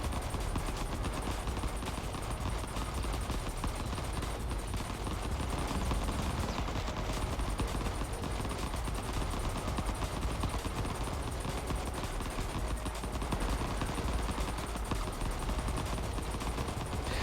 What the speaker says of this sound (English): We are now firing 2 bullets from every gun.